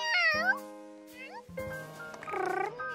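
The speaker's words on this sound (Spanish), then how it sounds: "¡un gato!" A cartoon cat meows several times with gliding, changing pitch, one long whining call after another, close and clear with a faint voice underneath.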